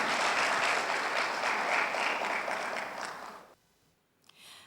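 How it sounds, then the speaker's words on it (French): A crowd claps steadily at a Djibouti ceremony, dense applause holding loud for about three seconds before cutting off into near silence, with a faint stir at the very end. "Vous voulez applaudir pour vous-même, c'est bien."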